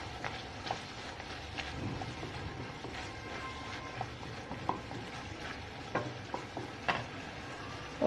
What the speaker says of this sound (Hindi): मखाने लिए हैं, वो भी हम डाल के इसके साथ फ्राई कर लेंगे